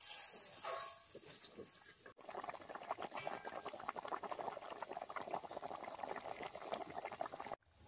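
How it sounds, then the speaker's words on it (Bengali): Thin Bengali snakehead fish curry gravy with tomato bubbles in a pan, a busy crackling simmer of small pops running steadily, faint and close, after a brief quieter hiss at the start. "ঝোলটা ফুটতে শুরু করেছে"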